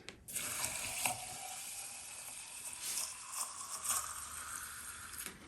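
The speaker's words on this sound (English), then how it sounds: "So I'm going to give it a second rinse." Water pours steadily as butterwort growing media is rinsed with distilled water in a sink, a continuous hissing splash with a few louder surges and no voices.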